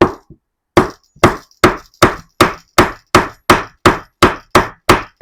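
Steady hammer blows strike metal about twice a second, each a sharp ringing clank, close and loud with no talking.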